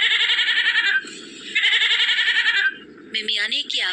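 Goat bleating loudly and close, two long, quavering cries followed by shorter, choppier bleats, with a soft voice murmuring in between.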